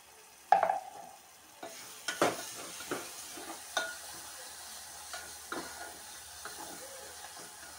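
Onions frying in a pan with salt and turmeric, a steady sizzle broken by repeated scraping stirs of the spoon at irregular intervals, close and moderately loud, with no voices.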